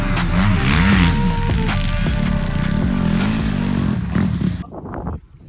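A 2022 Honda CRF 450 dirt bike revs at a riding session in Segonzac, its loud, close engine snarling and rising and falling in pitch before cutting away sharply near the end.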